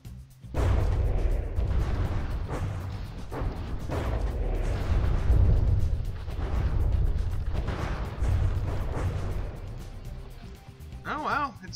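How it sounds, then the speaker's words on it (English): A warship fires an artillery volley in the naval combat game From the Depths, heavy booming shots rolling one after another in a dense barrage while a voice talks over the blasts. "Arc de Leon firing one last volley of defiance."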